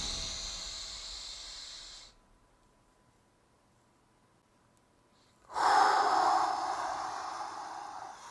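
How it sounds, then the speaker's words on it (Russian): A person breathes in hard through the nose during a breathing exercise: a loud, close, hissing breath, then about three seconds of near silence while the breath is held, then another strong breath. "Дышите носом и задерживайте дыхание на 3 секунды"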